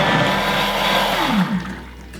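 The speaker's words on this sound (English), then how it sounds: "Get that water moving around, chuck it on reverse after a couple of seconds" A Thermomix bowl spins water at speed 5 for cleaning, giving a loud steady whirring blender-like roar with sloshing that shifts pitch briefly midway as the direction reverses.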